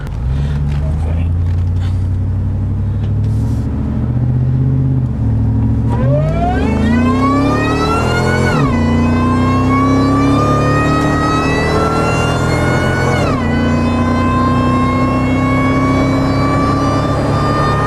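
A car engine revs up through several rising gear pulls during a road test drive, loud and close, each climb ending in a shift before building again.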